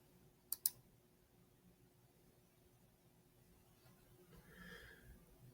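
Two quick, sharp computer mouse clicks sound close up near the start, followed by quiet room noise and a faint breath or rustle toward the end.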